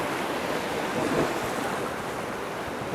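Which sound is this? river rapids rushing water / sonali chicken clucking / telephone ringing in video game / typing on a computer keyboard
river rapids rushing water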